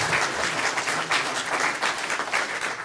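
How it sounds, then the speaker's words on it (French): An audience at a talk on the future Common Agricultural Policy applauds, the clapping dense and lively with uneven swells, filling the room for a few seconds without speech. "on peut l'applaudir"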